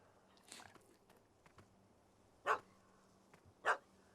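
A dog in The Witcher 3 video game gives two sharp, loud barks about a second apart, with faint rustling and thumps in between.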